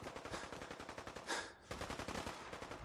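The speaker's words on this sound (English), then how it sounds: "Why is there so much shooting going on?" Rapid gunfire rattles almost continuously in Fallout 4, a dense fusillade of machine-gun bursts at moderate distance, briefly dipping in a short gap before the shooting resumes.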